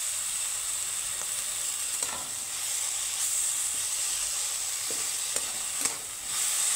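Tomato and curry leaves fry in a pan with a steady, close sizzle and hiss, broken by a few soft stirring scrapes and clicks, with no talking.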